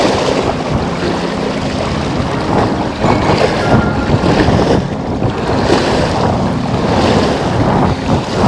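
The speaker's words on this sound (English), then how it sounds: "We got a lot of wind, but we got some chop in the water right here." Strong wind buffets the microphone over choppy lake water breaking at the shore on a cold day, a steady loud rush of gusts and lapping waves with no talk.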